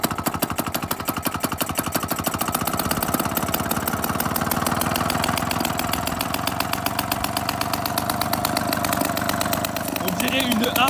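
A Solex moped's small single-cylinder engine idles steadily with a rapid, even putter throughout, close and loud, while someone talks over it.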